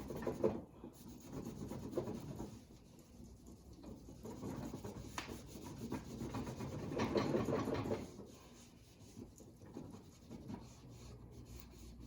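A cloth rubs pink stain into a wooden cabinet, giving a soft, steady, quiet scrubbing and swishing close by that comes in uneven strokes with brief pauses and no talking.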